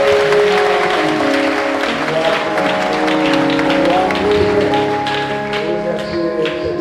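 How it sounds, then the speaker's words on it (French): A church congregation at an evangelical worship service in Haiti applauds together, steady dense clapping sustained throughout over sustained organ or keyboard tones. "Alors applaudissez le Seigneur pour bénir sa"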